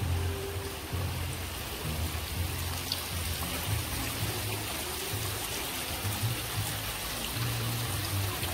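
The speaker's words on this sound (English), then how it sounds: "Has this little waterfall." A small waterfall at a hotel pool in St Lucia splashes and patters steadily, a soft, continuous wash of falling water heard at moderate distance.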